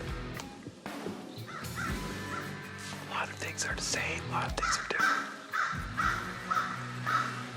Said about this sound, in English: There's still crows here, so that's the same.